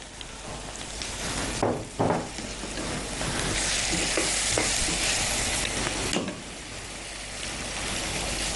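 Shrimp sizzling and frying in a hot pan, a steady crackle with a few louder bursts as it is stirred around.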